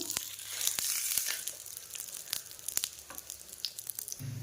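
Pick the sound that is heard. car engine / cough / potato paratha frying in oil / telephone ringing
potato paratha frying in oil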